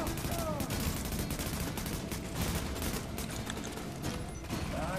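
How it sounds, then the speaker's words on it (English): Sustained automatic gunfire rattles through a firefight in the video game The Division, with rapid, overlapping shots that stay fairly steady and moderately loud. Brief talk can be heard. "Right, opening fire."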